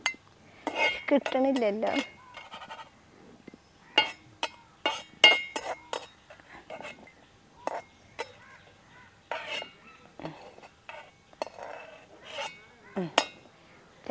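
Metal spoon scraping and clinking against a pan while scooping out cooked coconut, with irregular sharp clinks and rattles close by and brief speech now and then.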